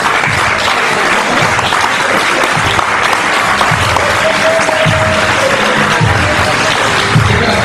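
Dense, steady crowd applause fills an MMA fight venue, loud and continuous throughout without a break.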